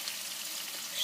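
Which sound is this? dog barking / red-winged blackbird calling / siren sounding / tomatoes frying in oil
tomatoes frying in oil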